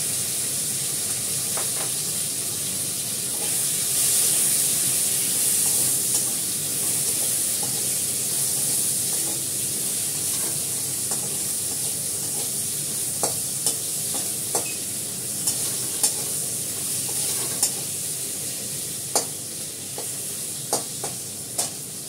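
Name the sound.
beans and potato frying and stirred in a pan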